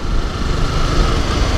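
Honda CBR 250R motorcycle engine running steadily, a continuous close rumble with broadband noise that holds an even level throughout the short stretch, no voices present.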